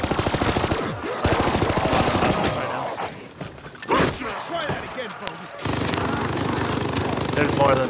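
Heavy gunner enemies firing machine guns in Call of Duty Vanguard Zombies, loud rapid bursts of automatic fire broken by brief pauses and thuds, with a final sustained stretch of continuous shooting.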